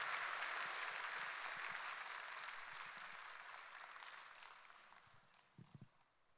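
A church congregation applauds during a Sunday service to welcome a speaker to the front, a dense wash of clapping that slowly fades away, with a few scattered claps at the end.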